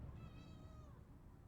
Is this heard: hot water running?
no